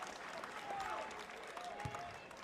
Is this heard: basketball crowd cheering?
yes